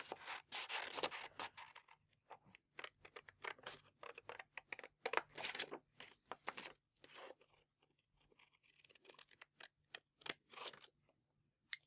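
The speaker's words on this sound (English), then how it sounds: "Next we take our paper scissors and I'm going to cut the shape out." Paper scissors snip out a hexagon template for mosaic patchwork quilting, a long run of crisp, close cuts in irregular bursts with short pauses between them, no talking.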